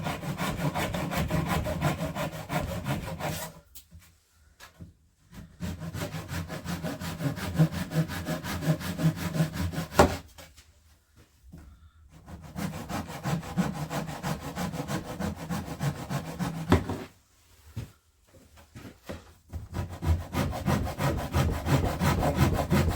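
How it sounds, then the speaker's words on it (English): A hand saw cuts through wood in steady back-and-forth strokes, close and rasping, broken by a few short pauses between runs, with no talk. "if you use a normal saw, just be careful, press it against and just slowly go back and forth"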